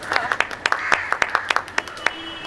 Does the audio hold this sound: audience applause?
yes